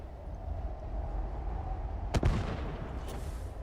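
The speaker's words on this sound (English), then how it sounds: "If I throw a grenade?" A grenade blast in the video game Starfield: a single sharp burst near the middle of the clip, with a lingering rumble after it, over a steady low background hum.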